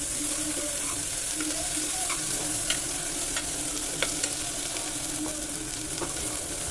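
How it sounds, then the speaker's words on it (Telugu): Onions and ginger-garlic paste fry for a country chicken curry, with a dense, even sizzle close by and light ticks of a stirring spoon every second or so. No one talks. "ఇది పచ్చివాసన పోయే వరకు చక్కగా ఫ్రై చేసుకోండి"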